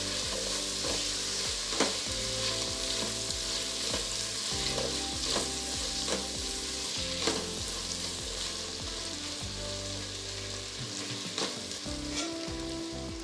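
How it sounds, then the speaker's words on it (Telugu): Ginger garlic paste frying in a pan for egg dum biryani, a constant loud sizzle with regular spatula scrapes and stirs throughout, close up and with no speech. "అల్లం వెల్లుల్లి పేస్ట్ పచ్చివాసన పోయేదాకా వేయించాలి"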